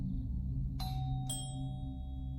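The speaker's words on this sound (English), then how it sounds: "The killer rang the doorbell" A two-tone doorbell chime used as a podcast sound effect, two clear bright rings about half a second apart that leave a sustained ringing tail, heard alone over a low steady hum.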